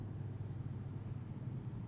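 Low, steady rumble of a car engine after an engine swap, heard from inside the car as a smooth, continuous drone without talk.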